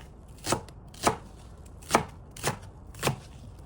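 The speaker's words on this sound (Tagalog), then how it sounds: "Tapos islice na siya guys." A knife cuts through a steamed whole chicken on a board in five sharp, evenly spaced chops, close and crisp, with quiet between strikes.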